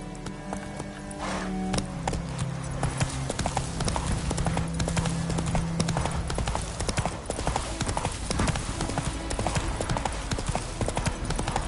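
Horse hooves clip-clop steadily in the Witcher 3 video game, a continuous, fairly loud galloping rhythm with game sounds behind it throughout.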